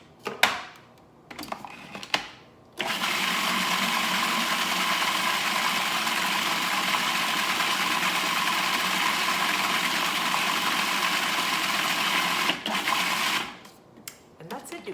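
A food processor whirs loudly and steadily for about ten seconds as it blends pesto, starting and stopping abruptly, with brief handling noises before and after.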